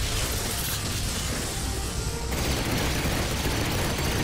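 Rapid machine-gun fire in the Ratchet and Clank video game during a battle on Gaspar, a dense, continuous loud barrage of shots blending with explosions and mechanical effects, with no talking over it.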